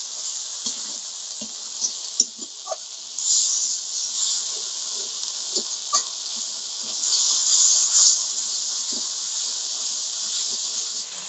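Spice paste with turmeric and salt being fried in oil for a fish curry, a steady close sizzle and hiss with small spits and crackles scattered throughout, with no talk.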